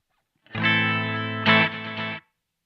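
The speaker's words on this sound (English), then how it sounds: "can hear that pattern or that rhythmic sort of sound coming through there just by manipulating the volume of those playbacks" Strymon Volante delay pedal giving a sustained distorted, chorused chord shaped by swelling playback volumes, with a louder pulse midway before it cuts off after about two seconds.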